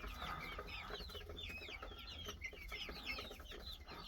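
Adler Serebro chicks just over two months old cluck and cheep together in a pen, a busy continuous chatter of many birds at moderate distance.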